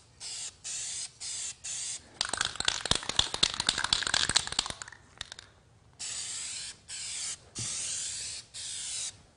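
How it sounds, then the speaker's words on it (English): DupliColor Perfect Match spray paint can giving short hissing test bursts, a few brief sprays, then a longer crackly rattling stretch, then several more even hiss bursts, close and clear. "And also give a test spray."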